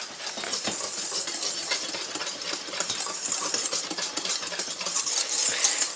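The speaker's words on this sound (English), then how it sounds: "I put the flour and the salt and the sugar, and then you mix that up really well" Flour, salt and sugar are mixed in a bowl with continuous close scraping and rustling strokes that stay at an even, fairly loud level throughout.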